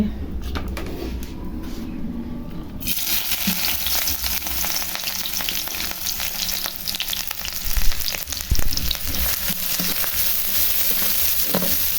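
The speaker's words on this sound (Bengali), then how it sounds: "পেঁয়াজ ভেজে তার ভিতরে চিচিঙ্গা দিয়ে দিলাম।" Onions and ridge gourd frying in hot oil while vegetables are cooked, with a steady loud sizzle throughout that swells after the first few seconds and a couple of brief louder bursts near the end.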